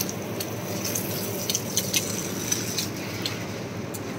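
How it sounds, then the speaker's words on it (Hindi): Water pours and splashes softly as potted plants are watered in the morning, a steady faint trickle with a few light drips and no talking. "ये दे रहे हैं पौधों में पानी।"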